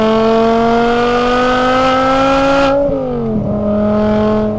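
A custom BMW E61 M5 Touring with a six-speed manual accelerates hard in third gear, its engine note rising steadily and loudly before a brief dip as it lifts off, then pulling again at a lower pitch.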